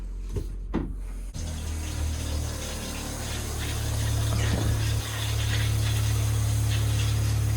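RV shower in a 2021 Keystone Cougar fifth wheel running pink antifreeze through the lines while winterizing, a few clunks then a steady loud rush of water with a pump hum underneath.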